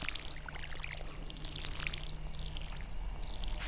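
Stardew Valley crops watered with a watering can, a soft steady pouring trickle that runs continuously at moderate volume with faint game tones behind it.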